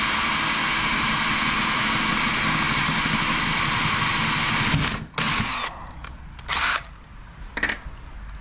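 Loud, continuous whirring of a power drill running close by for several seconds while installing a Teckentrup sectional garage door, then it stops and gives way to short bursts.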